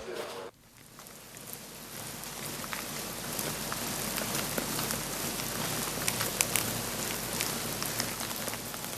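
Silkworms chewing mulberry leaves, a dense and even crackle like soft rain that runs without a break for the whole stretch. It starts after a brief pause at the beginning and holds at a steady level.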